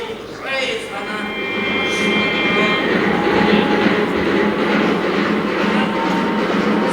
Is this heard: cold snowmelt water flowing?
no